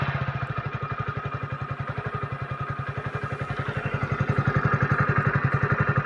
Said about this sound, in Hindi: तो आप लोगों को मैं एक बार पहले स्टार्ट करके साउंड सुना देता हूँ, इसका एग्जॉस्ट साउंड क्या है।